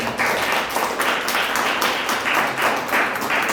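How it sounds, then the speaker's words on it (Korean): A church congregation applauds to welcome newly registered members, with a loud, close, rhythmic clapping that pulses in near-unison beats throughout. "박수로 하나님께 영광을 드립니다"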